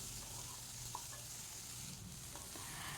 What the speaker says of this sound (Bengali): এবার এই সবজিগুলোকে কিন্তু আমি ভেজে নেব